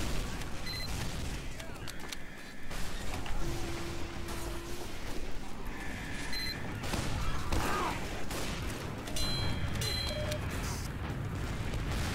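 Critical rockets launch and explode repeatedly in Team Fortress 2, a chaotic barrage of blasts and bursts over busy battle noise, moderately loud with overlapping impacts throughout.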